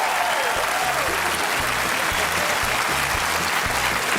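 Loud, sustained studio audience applause on a TV comedy quiz show, a dense roar of clapping throughout with some cheering and a faint backing tune underneath.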